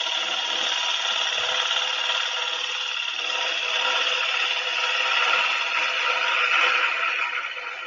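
A tenon is cut in wood with woodworking tools, a continuous close rasping and sawing sound held at steady loudness for several seconds with no speech.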